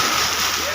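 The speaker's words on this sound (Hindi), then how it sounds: "सब गीले हो गए, पानी आया।" Seawater splashes over people fishing from a beach, a brief loud wash and spray of water, with a voice talking over it.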